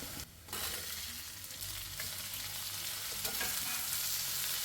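Ginger, green chilli and garlic frying in a pan for a Kerala-style prawn dish, a steady close sizzle with faint stirring, alone without voices, after a brief quieter moment at the start.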